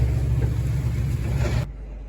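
A Ford 4610 loader tractor's diesel engine runs steadily at close range with a low, even rumble, then cuts off near the end, leaving only quiet ambient noise.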